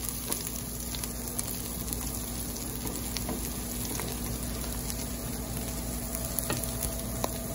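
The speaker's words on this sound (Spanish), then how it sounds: "ya que la cebolla está transparente, vamos a agregar el repollo." Onion sizzles and fries in a pan, with cabbage and chorizo about to join it, giving a steady, fairly quiet crackling hiss with scattered pops and a low hum underneath, and no voices.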